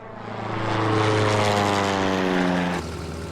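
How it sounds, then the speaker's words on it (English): A propeller airplane passes overhead above snowy Alaskan mountains, its droning engine swelling louder, then holding steady before starting to fade, heard alone without any talk. "there's a plane"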